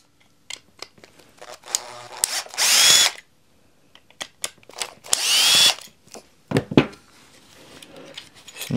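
Screws being undone on a DCA ASM04-150 angle grinder during disassembly of the stator cover: two bursts of power-screwdriver whirring with short clicks and handling knocks between them, close and alone.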